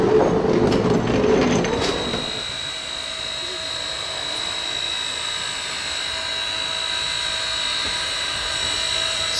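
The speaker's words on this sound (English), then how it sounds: "Vulcan Railcar RM51 departs Moorhouse Yard to run into the railway station" Vulcan railcar RM51 pulls out of Moorhouse Yard with a loud mechanical rattle and engine rumble for the first two seconds, then settles into a steady, more distant hum with a sustained whine.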